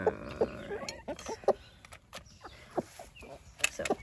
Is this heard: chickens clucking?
yes